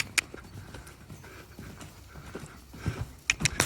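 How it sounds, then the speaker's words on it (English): A horse cantering in a clear three-beat rhythm during a schooling session in a Chambon, with repeated muffled hoofbeats close by and a few sharper strikes toward the end. "So we don't get a lope, but we actually get a canter. Nice 3-beat."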